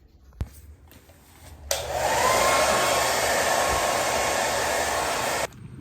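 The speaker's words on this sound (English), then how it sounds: "So I'm gonna use a hairdryer and heat it up because this rubber is kind of old." A hair dryer switches on after a click and roars steadily for several seconds while heating an old rubber air box boot on a barn-find Suzuki Savage motorcycle, then cuts off abruptly.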